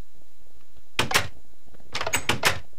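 Doors in the Dalek mod of a video game open and close in quick clattering bursts, one pair of sharp clunks followed by a rapid cluster of several more, loud against a quiet background.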